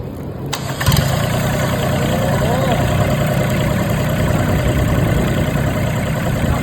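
An Iseki E3112 three-cylinder diesel engine rated at 22-23 hp cranks and fires up about a second in, then settles into a steady, loud, close idle with a rough mechanical rumble.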